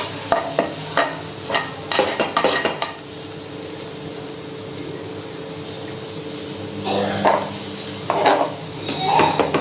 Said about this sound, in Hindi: तो इसमें मैं थोड़ा थोड़ा करके मिल्क ऐड करूंगी और मैं इसको चलाती जाऊंगी इसमें, जिससे कि लम्स ना आए।